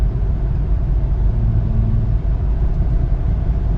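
A BMW X3 35i M Sport's turbocharged engine drones steadily in seventh gear while climbing a mountain road toward the Eisenhower Tunnel, a continuous low cabin rumble with road noise and no talking.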